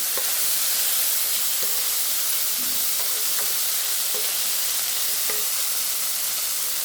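Ivy gourd (kovakka) thoran sautés in a pan with a steady, even sizzle and faint hiss, broken by a few soft clicks of stirring, close and alone without talk.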